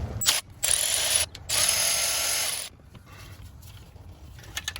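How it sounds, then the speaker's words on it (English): A hand ratchet fitted with a 10mm socket loosens a bolt on a Toyota/Lexus 2UZ-FE 4.7-liter V8 during timing belt work, giving a few loud, close bursts of rapid clicking separated by short pauses, followed by quieter shop background. "10mm socket to loosen that one"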